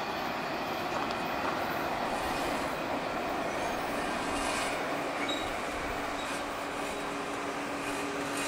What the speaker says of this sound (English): Giant double stack train.